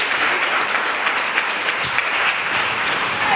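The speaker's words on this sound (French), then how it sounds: "que je vais vous demander de l'ovation très très très fort" Sustained, dense clapping from an audience fills the space as a steady ovation, loud and continuous with no voices over it, at a Baoulé community association gathering in Morocco.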